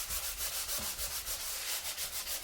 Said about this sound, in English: We're going to sand it down.